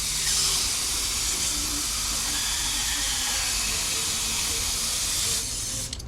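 A Harbor Freight HVLP spray gun sprays brake cleaner in a long, unbroken, close hiss that cuts off sharply near the end.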